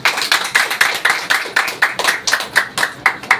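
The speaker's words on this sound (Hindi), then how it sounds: "मेरे लिए ताली होना चाहिए।" Audience clapping in time at a product training talk, a steady rhythmic beat of claps at roughly six per second, fairly loud and close, with no voices over it.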